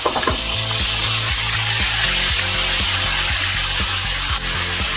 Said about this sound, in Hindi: मैंने ये अदरक देखिए, आपको पता है इसके बहुत ज़्यादा छींटे उठते हैं